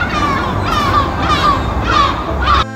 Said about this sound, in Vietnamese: Hải âu.